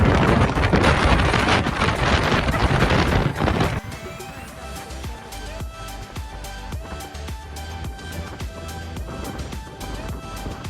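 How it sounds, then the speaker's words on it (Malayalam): Strong wind buffets the microphone at the Minnampara viewpoint in Nelliyampathy, a loud roaring gust for the first few seconds that then eases into a lighter, steady blowing rush. "അടിപൊളി കാറ്റായിരുന്നു ഇവിടെ."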